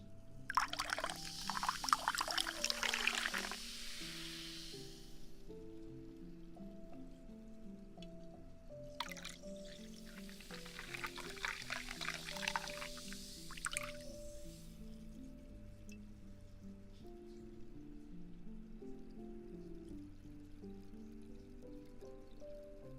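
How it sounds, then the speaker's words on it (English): Liquid poured into a glass in two separate bursts, each a few seconds of close bubbling, trickling flow, with a steady tonal background hum running underneath. "had to drink some so I could have more room in the glass for the rest of the pour"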